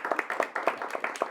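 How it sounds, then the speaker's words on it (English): Audience applause after a speaker's introduction at a community leadership event for a school district, a steady run of hand claps from a mid-sized crowd heard close and moderately loud with no talk over it. "We can clap here."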